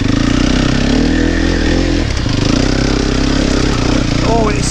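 A four-stroke enduro motorcycle labors uphill on a slippery hard-enduro trail, its engine loud and close with a steady thumping drone that dips briefly before revving again.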